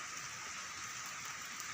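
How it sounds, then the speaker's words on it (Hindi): Steady rain falls in a forest, a dense even hiss of drops with no breaks, moderately quiet and close all around, with no voices. "यहाँ पे बारिश हो रही है"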